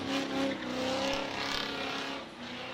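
Supercharged 6.0 drift car at a stunt show, its engine roaring steadily at mid distance with a faint hint of tire noise, loud and continuous without talk.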